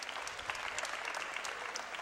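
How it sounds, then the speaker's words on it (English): Fans in the stands at a Lynnwood vs Mountlake Terrace girls' game give a steady round of applause, a dense, even patter of many hands at moderate distance, with no talk over it. "Nice round of applause from the fans."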